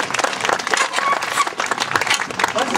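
An audience at a trial-bike and artistic cycling show at a festival claps in a dense, steady burst of applause. It stays fairly loud and close throughout, with some crowd noise mixed in.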